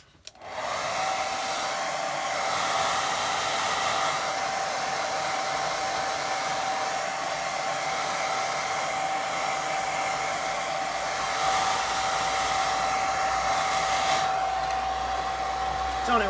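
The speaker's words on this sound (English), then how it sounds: "I'm going to give that a little blast with dryer." A hair dryer blasting air over a wet watercolour waterfall painting, a loud steady whooshing roar with a thin constant whine, switched on at the start and running the whole time close up, with no talking.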